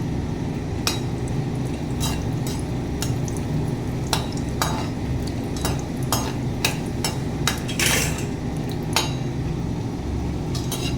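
Whole spices, dried chillies and bay leaves frying in hot oil in a wok, a steady crackling sizzle with scattered sharp pops and clinks of a utensil stirring throughout, close and fairly loud with no talk.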